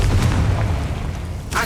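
A Confringo spell explosion in the Hogwarts Legacy video game, a short booming blast with a deep rumbling tail and a second sharp burst near the end.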